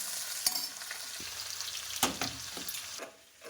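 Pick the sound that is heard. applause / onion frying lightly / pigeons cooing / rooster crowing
onion frying lightly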